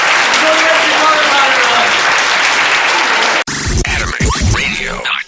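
Audience at a San Francisco Comic Con Q&A applauding Kevin Conroy, the voice of Batman: dense steady clapping for about three and a half seconds, then cut off abruptly as a voice speaks over the end.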